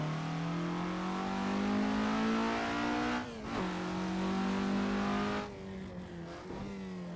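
A 1965 Alfa Romeo GTA accelerating hard, its engine note climbing steadily through the revs, dropping briefly at two gear changes before rising again, loud and close throughout.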